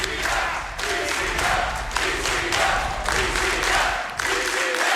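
A large crowd at Awesome Games Done Quick, a live speedrunning charity marathon, cheers and applauds loudly and steadily in repeated swelling waves, with no voice standing out.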